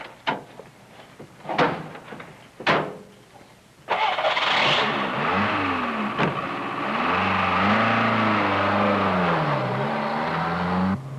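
A car drives off in a 1974 film scene. A few sharp door thumps come first, then the engine starts and revs loudly, with rising and falling sweeps as it pulls away.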